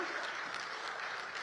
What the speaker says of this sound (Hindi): जोरदार तालियों से स्वागत कीजिए मुख्यमंत्री महोदय का